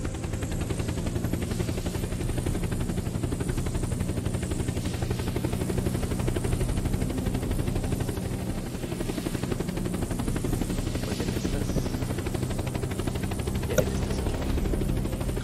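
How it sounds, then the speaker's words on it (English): A patrolling drone in the survival game Unturned hums steadily overhead, a continuous buzzing rotor drone with a faint rhythmic chop that holds at an even level throughout, with no talk over it. "Drone is still patrolling."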